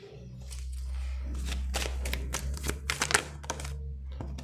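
Tarot cards riffled and shuffled by hand, a run of dry, crisp flicking and rustling bursts close by over a steady low hum.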